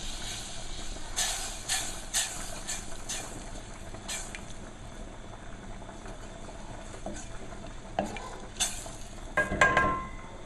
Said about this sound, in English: and then we'll just start mixing.